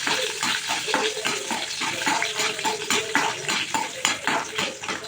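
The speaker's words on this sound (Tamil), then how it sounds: "ஒரு துண்டு இஞ்சி, 4-5 பூண்டு பல், ஒரு 5-6 முந்திரி பருப்பு இதை போட்டு நல்லா வதக்கணும்" Hot oil sizzles in a pan with ginger, garlic and cashews while a spoon stirs and scrapes in quick, repeated strokes, close and busy.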